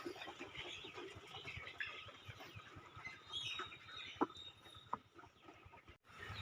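Chickens on a small poultry farm recovering from Ranikhet and Gumboro disease cluck and murmur softly at a distance, with scattered brief calls and a couple of sharp knocks over low background noise.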